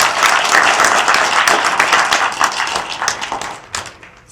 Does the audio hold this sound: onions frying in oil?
no